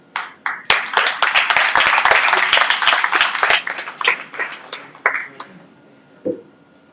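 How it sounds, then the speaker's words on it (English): Audience applause for a panel moderator at an AWS Web3 summit, a burst of clapping that swells, holds steady and then thins out to scattered claps near the end. "Please, a round of applause."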